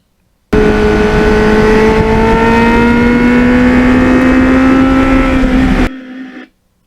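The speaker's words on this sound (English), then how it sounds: "I love the sound of this bike." A loud, steady engine roar from a restored 1989 Kawasaki Ninja 750R sport motorcycle under way, pitch slowly climbing, then dropping off abruptly into a brief quieter tail.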